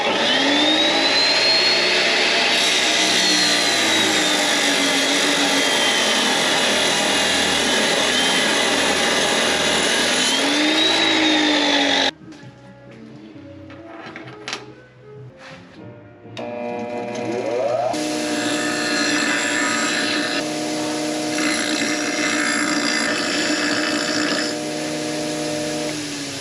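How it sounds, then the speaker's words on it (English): An angle grinder clearing slag from a cut steel piece before welding whines loudly and steadily for about twelve seconds. A few clanks follow in a brief pause, then the grinding resumes at a slightly lower pitch. "grind the slag off it so I can weld it"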